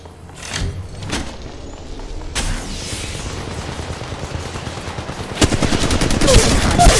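Gunfire in the Apex Legends Mobile video game, scattered close shots and then a dense automatic burst toward the end, loud over a rumbling game background.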